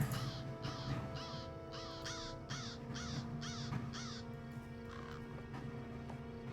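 Crows cawing in the Lord of the Rings Online game, a rapid run of harsh repeated caws followed by a few scattered calls, heard faintly over a steady ambient background.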